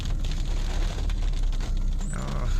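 Rainwater dripping from trees beside a speed-limited road, heard as a dense, steady patter of drops close by, continuous throughout.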